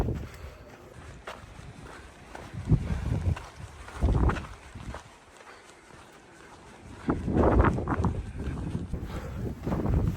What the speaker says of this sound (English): The wind down here is soul crushing.